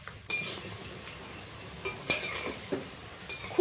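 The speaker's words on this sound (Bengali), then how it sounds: "এগুলোকে এবার খুব সুন্দর করে উল্টে পাল্টে ভেজে তুলে নেব।" Raw banana cutlets are turned over in hot frying oil, a spatula giving a few sharp metallic clinks and scrapes against the pan over a faint low background hiss.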